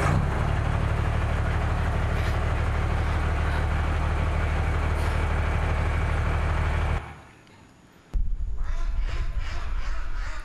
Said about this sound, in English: This is a truck.